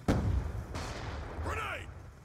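A grenade blast in Call of Duty Black Ops II multiplayer, one sharp booming burst followed by a second thud and a long rumbling tail, with a brief voice line near the end.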